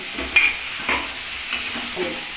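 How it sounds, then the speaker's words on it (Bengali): Soybean chunks are stir-fried in oil in a pan with a soft background sizzle, broken by four or five quiet scraping stir strokes spaced about half a second apart. "এই সয়াবিনটা দেওয়া বাকি আছে এইটাও তেলের মধ্যে আবার কষিয়ে নিচ্ছি"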